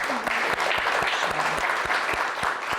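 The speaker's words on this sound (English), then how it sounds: "can we give a round of applause to our artists for doing this?" Audience applause for the artists at a youth bureau creative arts contest, a steady wash of many hands clapping close by, with a brief voice murmuring faintly underneath.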